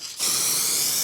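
Spray paint hissing out in a final coat onto a BMW E91 330d bumper, a sudden close, loud, steady spray that starts after a brief pause and runs without a break.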